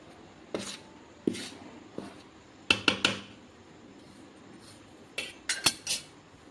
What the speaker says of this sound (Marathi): पराठ्याच्या साहाय्याने पूर्ण पीठ असं मिक्स करून घ्यायचं आहे